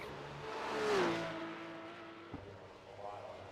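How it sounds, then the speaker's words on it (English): Naturally aspirated flat-six Porsche engine in a sim racing game, fairly faint, swelling as a car passes, with a pitch sweep and a sharp gear-change drop, under quiet commentary. "Flat 6 Porsche sound, naturally aspirated"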